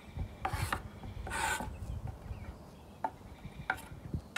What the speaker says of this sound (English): just go ahead and scrape it off the board with the rest